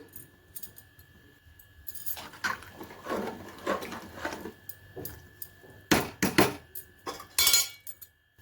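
Metal and glassy clinks in a home kitchen as a lid is set on a cooking pot of soya-chunk pulao with coriander and mint, with several sharp clatters near the end amid a low background hum; no talking.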